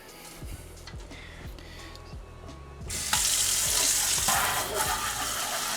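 Tap water runs into a kitchen sink while soil is rinsed off the roots of a Costco houseplant during repotting; the steady hiss swells louder partway through, with faint clinks and handling sounds mixed in.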